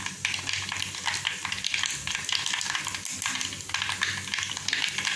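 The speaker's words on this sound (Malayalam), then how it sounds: "ഉലുവയും കടുകും പൊട്ടുന്നുണ്ട്." Fenugreek and mustard seeds crackle and pop in hot oil for a Kerala shallot curry, a dense, continuous loud sizzle with rapid spattering throughout and no voices.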